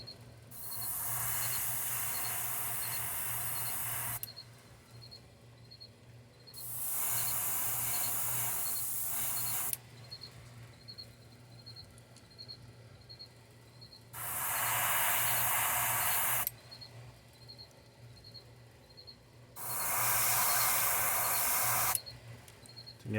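Airbrush spraying paint onto a fish model, close hissing bursts of a few seconds each, four main sprays separated by quieter pauses, with a faint steady hum underneath.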